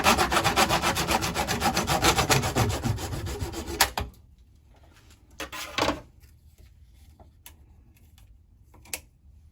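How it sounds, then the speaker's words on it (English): A PVC pipe held in a clamp is sawn with quick, rhythmic back-and-forth rasping strokes for about four seconds. The sawing stops abruptly, leaving a few light knocks and handling sounds. "I have this PVC pipe. I have mounted it on my clamp, and I'm going to take about 2 inch and then I'm going to cut it."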